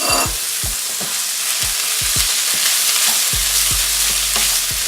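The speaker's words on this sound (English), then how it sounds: "And we're just going to let this fry" Kidney beans and ginger garlic paste fry in a pan with a constant close sizzle, while a spoon knocks and scrapes against the pan in a steady, repeated rhythm; nobody speaks.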